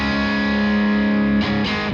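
Electric guitar run through the Brainworx Friedman DS40 Dirty Shirley amp plugin at its default setting, playing a sustained distorted chord that rings steadily, then two more strums near the end, loud and alone.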